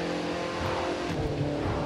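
An Audi TT RS engine in The Crew 2 holds a steady, loud, close drone under acceleration, with a sustained buzzing tone.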